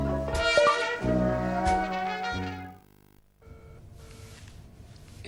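Phone dialing and ringing tones on a call placed through a voice assistant: sustained layered electronic notes for a couple of seconds, a short gap, then quieter repeating beeps over faint background noise.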